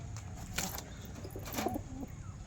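Pigeons kept in a loft coo softly in short, throaty phrases, a few calls rising over a low background hum, with brief rustling or wing sounds nearby.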